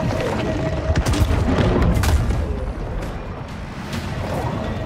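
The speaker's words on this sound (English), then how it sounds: "Oh my god, that is a lot of torpedoes." Torpedoes explode around ships in the video game Maneater as a dense, loud rumble of booming blasts that peaks and then settles into a sustained roar, with no clear voices.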